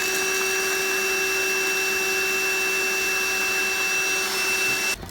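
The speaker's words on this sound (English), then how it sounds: "Hoover's on, Hoover's attached." A Hoover vacuum cleaner attached to a condenser drain pipe drones steadily and loudly with a constant whine, close by, running without pause until a slight change right at the end.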